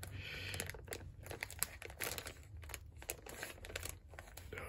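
Close, steady crinkling and rustling of a plastic poly mailer envelope being pulled open, with dense crackles and tearing plastic noises running continuously and no talking.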